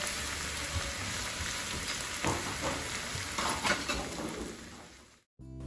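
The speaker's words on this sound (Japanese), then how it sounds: "小松菜とキノコ類がしんなりしたら、バター 10g と醤油を加え、小松菜の葉を加えさっと炒め" Salmon, mushrooms and komatsuna stir-fry in a pan with butter and soy sauce, giving a continuous close sizzle with scattered stirring clicks before cutting off abruptly near the end.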